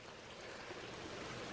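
Small waterfall spilling into a drain beside a hiking trail, a steady broadband rush of running water, fairly soft and continuous with no voices over it.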